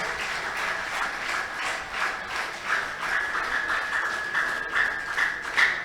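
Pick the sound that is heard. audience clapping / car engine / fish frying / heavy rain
audience clapping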